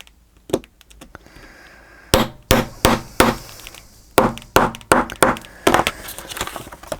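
Sharp metallic hammer strikes on a rivet setting tool ring out in quick groups of three or four, close and loud, with brief pauses between bursts.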